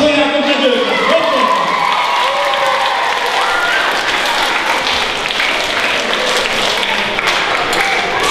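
An audience applauds loudly and continuously at a televised local event, a dense wash of clapping with a voice speaking over it at the start.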